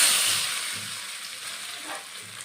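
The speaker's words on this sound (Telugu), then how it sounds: "పోపు వేగిందండి. మరిగించుకున్న టమోటా రసంలో పోపు వేసుకుందాం." A spice tempering sizzles hard in hot oil before it goes into boiled tomato rasam, a close, continuous frying hiss that fades slightly over a couple of seconds.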